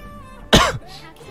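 A single sharp, loud cough bursts out close to the microphone during a Mobile Legends gaming stream, followed by faint background noise.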